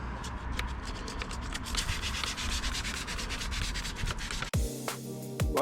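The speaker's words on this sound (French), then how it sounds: "là je mets du produit à jante et je frotte avec une brosse" A brush scrubs wheel-cleaning product over Audi RS6 alloy rims, a steady close rasping rub for several seconds before a sharp knock and a brief pause in the motion.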